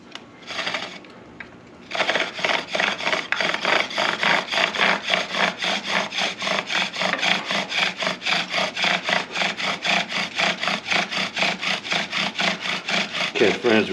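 A cedar bow drill spindle is worked back and forth in a divot for a friction burn-in, giving a loud, steady rhythmic rasping of wood on wood with quick regular strokes, after a brief pause at the start.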